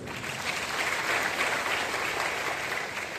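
Loud applause from an audience at a talk by the founder of an IAS coaching institute, a dense continuous clapping texture sustained steadily throughout without pause.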